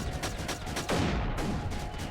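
Rapid bursts of gunfire from aircraft in the video game Creeper World 3 crackle over a steady engine-like drone, loud and continuous with several distinct volleys.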